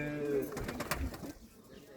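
A Turkish flying pigeon at an auction coos softly in a few low, throaty pulses, faint and close, with some background murmur.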